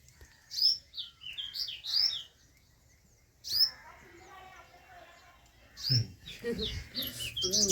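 Small birds chirp close by in several quick bursts of high tweets separated by quiet pauses, with a few lower rustling or voice-like sounds mixed in near the end.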